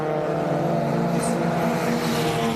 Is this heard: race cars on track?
yes